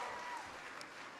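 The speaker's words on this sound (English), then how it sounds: "Can everybody give Emilio a big round of applause for that great introduction?" A crowd at a college affordability event in Syracuse applauds an introduction, giving a short burst of faint, distant clapping that stays steady without rising.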